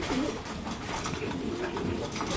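Imported pigeons coo in a loft, soft repeated low calls at close range with steady background hum and no voices.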